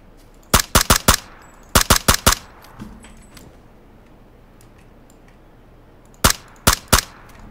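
Loud, close bursts of automatic gunfire ring out in PUBG on Xbox One, arriving in quick rapid clusters of three to four shots separated by quieter pauses.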